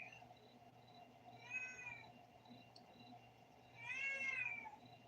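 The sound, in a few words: cat meowing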